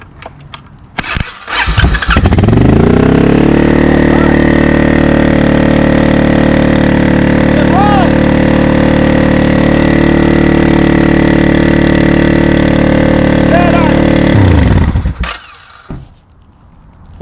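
A 20-year-old Suzuki Intruder motorcycle turns over and catches, then settles into a loud, steady idle for about twelve seconds before shutting off abruptly.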